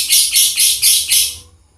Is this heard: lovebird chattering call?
yes